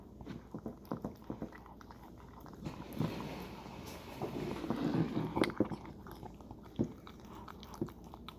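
A dog chewing and licking a peanut butter snack, with close, irregular wet biting and smacking sounds, bursts of chomping and a few sharper clicks, and no talking.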